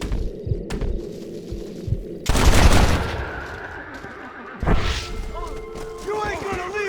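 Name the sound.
gunfire in the video game Red Dead Redemption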